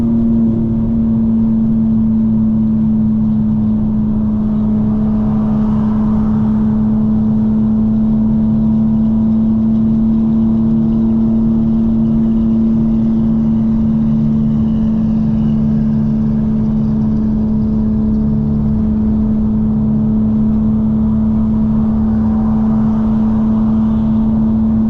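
A tuned 900 hp 2025 BMW M4 Competition xDrive running an MHD flash, its engine droning loud and steady from inside the cabin with a strong sustained tone and gently swelling revs throughout.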